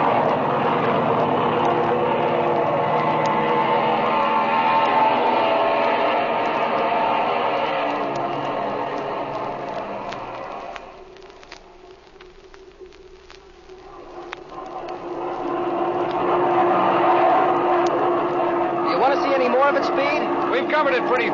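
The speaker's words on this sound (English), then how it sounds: "Flash had the engine running a while ago, so it's still warm" Droning airplane engine sound effect from a 1937 old-time radio drama, running steadily, dipping briefly and returning, under continuous dialogue.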